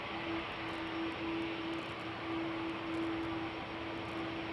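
An Airbus A330-200's General Electric CF6 jet engines roar on takeoff at Schiphol's Polderbaan runway, a broad steady rushing drone with a constant whine running through it, heard from a distance with no talk.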